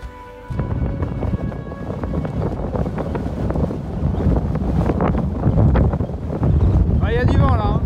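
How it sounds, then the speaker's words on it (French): Wind buffets the microphone on a mountain pass in strong, gusting rumbles that fill the clip, with a person talking briefly near the end. "Il y a du vent là."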